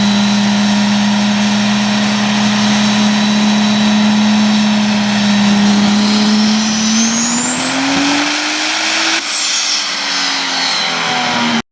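A race car on a dyno pull, its engine held wide open and revving steadily higher to about 6,500 RPM before the throttle is lifted; loud and close, with no talk over it.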